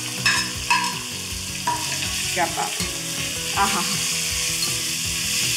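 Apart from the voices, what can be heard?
mustard seeds, cumin and chopped onion sizzling in oil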